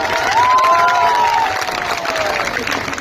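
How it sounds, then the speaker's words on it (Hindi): A rally crowd at a Prashant Kishor event in Bihar claps and cheers steadily for about three seconds, dense and continuous, with a thin whistle-like tone rising and falling over the noise. "अब जिसको जिसको ताली बजाना है बजा लो।"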